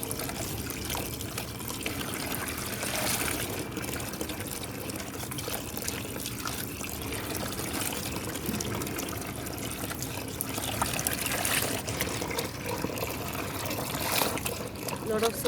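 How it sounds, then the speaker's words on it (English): A painted T-shirt sloshed and wrung in a basin of soapy rinse water: steady splashing, trickling and pouring run throughout, fairly close and continuous, with a brief louder gush near the end. "We're going to throw this water and take some more fresh water till all the soap comes out"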